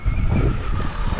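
A fast RC car on an outdoor track buzzes past close by in a steady, loud motor whine that briefly surges, with no talk over it.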